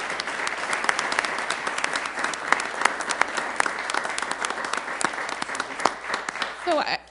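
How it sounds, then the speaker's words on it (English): Applause from an audience at a city council meeting in Sioux Falls, steady clapping from a room of people for about seven seconds, moderately loud, with some voices underneath. "Can we just give them all a great round of applause?"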